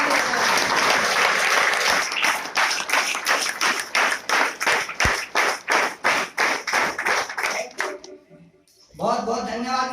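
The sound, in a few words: audience applauding at RCM seminar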